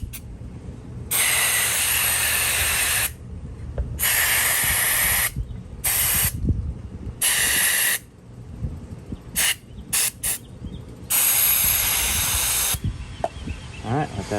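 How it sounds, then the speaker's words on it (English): Contact cleaner sprays into the switch of an old Black and Decker Model 457 drill in several close, loud hissing bursts of a second or two each, separated by quiet handling noises. "I'm going to put some contact cleaner in and around the switch"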